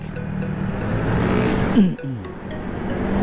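A car passing by on the road, its engine and tire rumble swelling to a peak and then falling away, with a brief Doppler-like drop in pitch and steady traffic noise around it.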